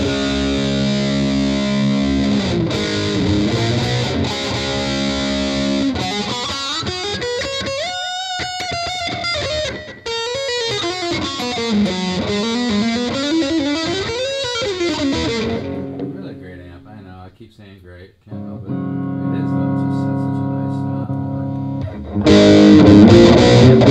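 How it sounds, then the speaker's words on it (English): Loud distorted electric guitar through a Roland Cube 60 amp, playing sustained, bending notes with swelling pitch slides, dropping out briefly before chords ring again. "I like the distortion on this amp because it's so musical."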